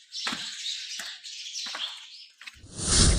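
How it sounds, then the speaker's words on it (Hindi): Small birds chirp near their nests inside an old well at Rohtas Fort, a few thin high calls echoing in the enclosed shaft, followed by a louder rush of noise at the end. "परिंदों के घोंसले बने हुए हैं,"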